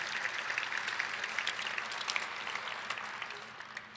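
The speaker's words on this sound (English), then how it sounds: "give yourself a round of applause" Event audience at Prosper Lincoln 2019 giving a round of applause, a sustained crowd clapping at moderate level that thins slightly toward the end.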